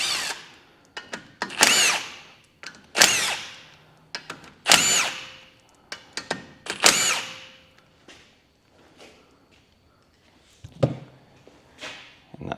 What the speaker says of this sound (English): with the 10mm socket, just undo these 6 bolts on the outside.